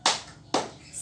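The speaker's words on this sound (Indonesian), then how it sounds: "kita tepuk semangat dulu yuk" Two sharp bursts of children's spirit clapping in an Indonesian classroom, each a short loud group clap followed by a brief fading tail.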